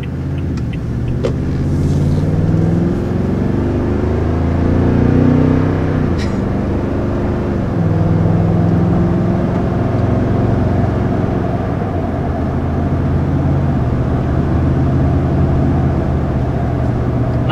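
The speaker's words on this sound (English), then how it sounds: "It legitimately sounds like a hot rod or something, and you're in just like a pickup truck." Deep, throaty V8 exhaust of a 2020 Toyota Tundra TRD Pro pickup, a loud sustained rumble with rising and falling rev swells throughout, no voices.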